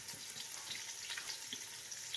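Onions frying in a pan for a fisherman-style home dish in Qatar, giving a steady close sizzle and crackle with no talk over it.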